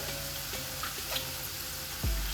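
Potatoes fry gently in oil in a pan over low heat, making a soft, even sizzle with faint crackles and a brief clunk near the end.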